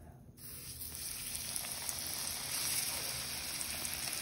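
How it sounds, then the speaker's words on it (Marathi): Bombay duck (bombil) fish, coated for a crispy rava fry, hissing and sizzling in hot oil, a steady close crackle that swells slightly after a quiet start and runs alone without talk. "आता आपण फ्राय करायला स्टार्ट करू. आता आपण तेलात सोडू."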